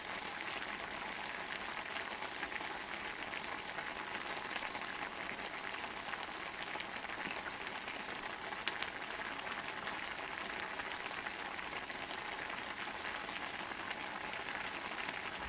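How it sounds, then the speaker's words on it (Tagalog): A pot of menudo stew bubbles in a steady, even boil, a dense close-up simmering hiss that continues without pause. "Kumulo na."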